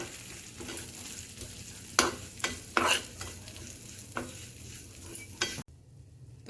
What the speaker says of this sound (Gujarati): આજે મેં કાજુ બદામ કતર્યા છે, તેને આપણે ખાલી 2 મિનિટ માટે આ રીતે તેમાં શેકી લઈશું.